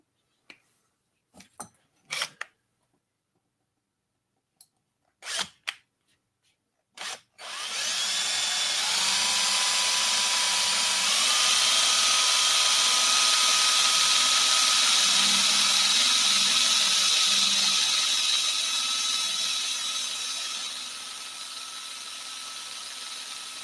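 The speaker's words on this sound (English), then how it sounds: "And grab my drill." A few sharp knocks and clicks, then a power drill spins up into a long, steady high-pitched whine that holds and eases slightly toward the end.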